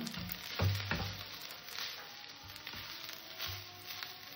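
Leftover cold rice frying in a pan, giving a soft, steady sizzle with occasional stirring scrapes and light knocks, fairly quiet and close.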